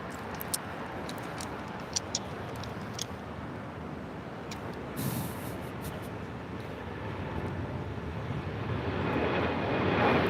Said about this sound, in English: 2614 taking off to Newark on a 787-10 Dreamliner